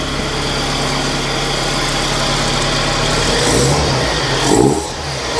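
A 1998 Chevy Tracker with a turbocharged engine and aftermarket exhaust gives off a deep, loud, steady exhaust drone with a slight rise in revs near the end.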